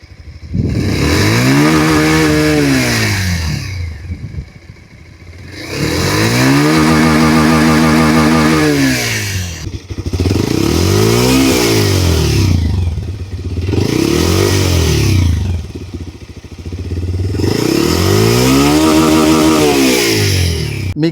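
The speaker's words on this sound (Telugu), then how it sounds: "ఇంజన్ సౌండ్ ఒకసారి విందాం." A 2026 Bajaj Pulsar 180 with a 178cc single-cylinder engine revs hard in repeated cycles, the pitch climbing and falling about five times over a rumbling idle. Loud and close, with no voices.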